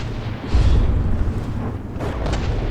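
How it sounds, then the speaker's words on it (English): Torpedoes strike a warship in World of Warships, a deep rumbling boom that swells early and rolls on, with a few sharper cracks near the end. "Torpedoes chopped off a turret at the base."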